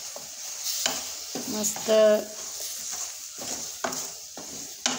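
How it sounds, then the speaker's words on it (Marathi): Boiled jujubes being stirred in a pan of melting jaggery syrup with red chili powder, soft scraping and light sizzling at a steady pace, with someone speaking over it. "मस्त गुळाच्या पाकामध्ये हे शिजवून घेऊ बोरं।"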